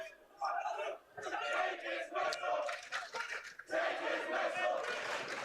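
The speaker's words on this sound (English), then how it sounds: "Crowd didn't seem too happy with the call by the referees" A high school boys' basketball crowd in a gym jeers and shouts at a referee's travel call, a burst of many raised, overlapping voices rising and falling in waves.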